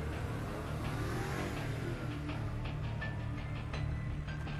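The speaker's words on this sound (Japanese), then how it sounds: "どうしてお前はこんなエキゾーストが作れるんだ" Fairly faint, steady drone of a tuned car's custom exhaust as the engine revs, with a few short pulses rising out of the hum.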